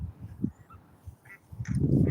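Goose honking by a river on a morning walk, a few short nasal calls at moderate distance mixed with low rustling and handling noise, with a louder burst near the end.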